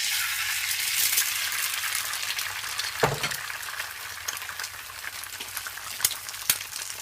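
Eggs sizzle and crackle in a spoonful of hot vegetable oil in a pot for fried rice, a steady bright frying hiss with a few sharp pops and stirring clinks and no voices.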